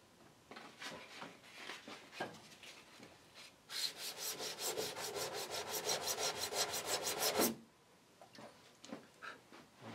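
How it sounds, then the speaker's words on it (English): A varnished wooden sailboat deck is hand-sanded with a hard sanding block: scattered single rasping strokes, then a fast, even run of back-and-forth scrubbing, then a few more isolated strokes, close and fairly quiet. "Now, with a hard sanding block,"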